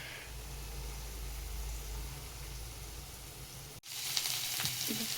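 Drumstick pods fry in oil with black masala, giving a steady hiss and crackle up close. After a brief sudden cutoff the sizzle comes back brighter with small pops.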